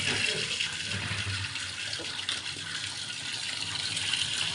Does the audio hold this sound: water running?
yes